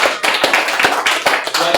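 Clapping from an audience, a loud, close run of evenly spaced claps at a steady beat, with voices talking alongside.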